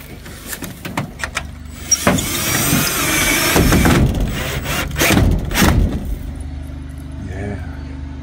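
A power tool drives screws into a vintage camper wall with long, loud whirring bursts and some clicks in between, close by.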